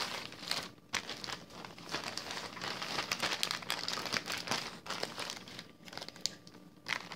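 Close, continuous crinkling and rustling of packing material as a mailed package that has already been cut open is unwrapped, with irregular crunches and a few sharper tearing bursts throughout.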